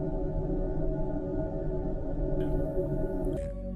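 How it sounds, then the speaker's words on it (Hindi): A NASA sonification of Uranus's electromagnetic signals recorded by Voyager produces eerie, sustained droning tones with slowly wavering pitches, interrupted near the end by a brief high sweep before the sound shifts abruptly. "यूरेनस की आवाज।"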